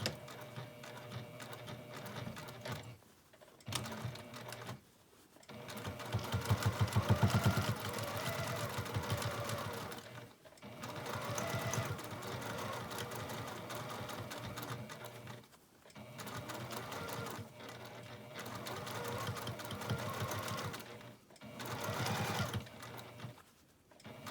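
A sewing machine top-stitching carefully around a seam on a pixie basket, with the stitch length set just over 3. It whirs steadily in several long runs separated by brief pauses, near and alone.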